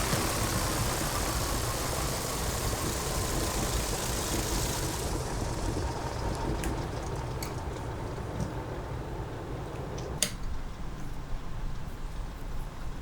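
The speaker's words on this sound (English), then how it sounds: "I'm going to shut down the engine so that we don't end up in the trees." The simulated engine of the Wright Flyer in Microsoft Flight Simulator drones steadily, then thins out and winds down as it shuts off, leaving faint clicks and a brief knock.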